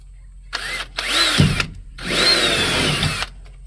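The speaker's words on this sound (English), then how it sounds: "then we just need to drill a hole." A power drill bores a hole in polycarbonate sheeting for a solarium off a back porch, in two loud whining bursts with a short pause between, close by.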